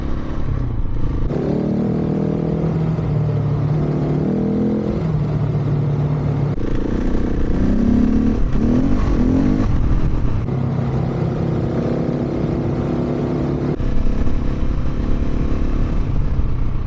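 Motorcycle ridden on a gravel trail in Sweden, with the engine droning loudly and close throughout, rising and falling in pitch as it shifts and accelerates, and wind noise and rattling over the rough surface.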